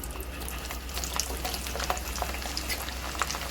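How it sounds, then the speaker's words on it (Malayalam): Garlic fries in a pan while cooking a tomato thokku side dish, giving a steady close sizzle and crackle with scattered sharper pops throughout and no talking. "അപ്പോൾ നമ്മൾ വെളുത്തുള്ളി ഇടാൻ പോവാണ്"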